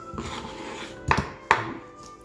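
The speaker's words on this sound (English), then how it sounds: "I'm going to cut my onions" A knife chops onions on a cutting board while vegetable stock is being made, giving two sharp, close knocks about half a second apart over a quiet room.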